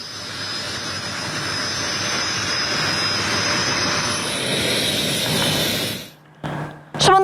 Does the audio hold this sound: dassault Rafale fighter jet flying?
yes